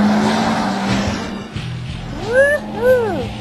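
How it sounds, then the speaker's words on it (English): An Italian-built Accelero supercar in Abu Dhabi, heard first as a steady road rumble that then rises in two sharp engine revs, each swelling and falling back, loud and close near the end. "Listen to that engine."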